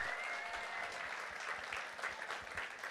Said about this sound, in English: Let's give Mrs. Lafreniere a round of applause as well.